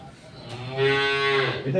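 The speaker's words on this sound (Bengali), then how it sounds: "বাছুরগুলো আমরা একটু দেখি, আসেন।" A heifer calf on a dairy farm gives one loud, drawn-out moo close by, rising in the middle of the clip and then fading.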